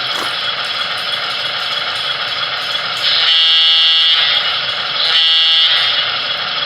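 A BLI Paragon 4 Baldwin RF16 Centipede model locomotive with loud factory sound settings, giving a steady buzzy electronic drone with a whistle-like tone swelling in twice, close and loud.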